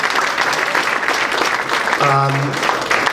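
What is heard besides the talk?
audience applause for the assistant coaches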